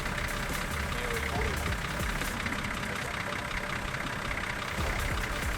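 A vehicle engine idles steadily through a winch recovery on a scenic drive, a continuous low rumble with faint knocking, with voices talking over it.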